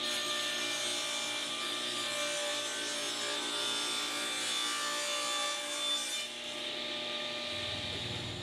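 A table saw with its blade tilted to 45 degrees cuts wood guided by a miter gauge, a steady close whine with a rasping bite through the board throughout, the tone changing near the end as the cut finishes.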